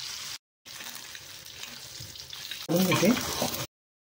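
Pieces of fish shallow-frying in hot oil in a pan give a steady crackling sizzle, briefly cut out, then growing louder and denser near the end.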